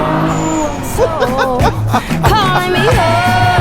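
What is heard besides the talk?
Kia Stinger GT accelerating at full throttle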